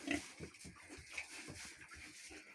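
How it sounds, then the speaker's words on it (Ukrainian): Pigs grunting in short, uneven bursts while being fed acorns in a farmyard pen, fairly close with some background noise and no talking. "Свинюшки. А ну держи. Будете жолуді їсти."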